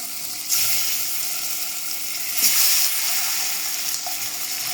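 Eggs rubbed with salt and turmeric frying in oil in a wok: a steady, fairly quiet sizzle with a couple of brief louder bursts of spatter or stirring.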